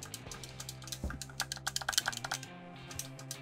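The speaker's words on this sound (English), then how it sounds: "These buttons don't feel, I mean, yeah, they feel more clicky." Crisp, quiet clicks of buttons on an Xbox Shock Blue Sonic the Hedgehog controller, pressed close up in an irregular run of rapid taps with short pauses.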